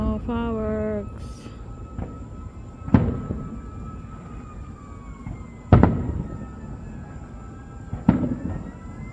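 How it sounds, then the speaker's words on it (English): Fireworks burst at a baseball stadium, three heavy booming explosions spaced a few seconds apart with crackling tails, over crowd ambience, and a voice speaks briefly near the start. "More fireworks."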